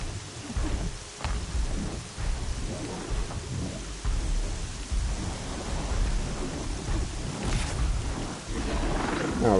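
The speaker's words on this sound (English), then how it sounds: "It's raining" Heavy rain pours steadily in a Horizon Zero Dawn Frozen Wilds game scene, with low thunder rumbling underneath and occasional sharper crackles, loud and continuous with no speech.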